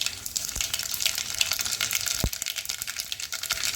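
Mustard seeds splutter and crackle in hot oil in a pan, a constant sizzling hiss broken by a few sharper pops, heard up close.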